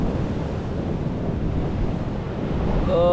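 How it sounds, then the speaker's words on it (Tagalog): Swirling seawater churning in a whirlpool, a steady broad rush of surf with wind buffeting the microphone throughout, loud and continuous from start to finish. "May umiikot na tubig."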